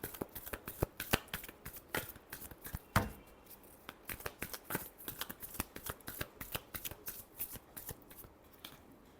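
Tarot cards shuffled by hand, a quick rapid run of crisp riffling and flicking clicks, close and fairly quiet, with no talking.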